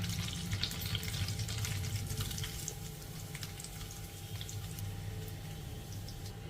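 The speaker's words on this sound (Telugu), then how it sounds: "ఇప్పుడు ఈ పచ్చి కొబ్బరిని మనం మీడియం ఫ్లేమ్లో ఇలా కలుపుకుంటూ ఒక 2 నిమిషాలు ఫ్రై చేసేసుకోవాలండి" Grated fresh coconut, with curry leaves, frying in a pan over a medium flame while being stirred, giving a steady soft sizzle with scraping throughout, moderately close and without any talk.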